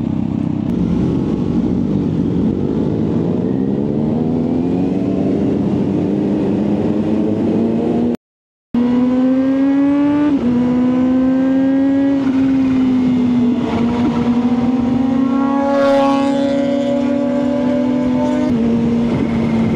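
Kawasaki ZH2 motorcycle engine on a morning ride in Batangas, loud and steady with rising and falling revs and quick throttle response, broken by a short gap midway, then climbing and holding a high drone.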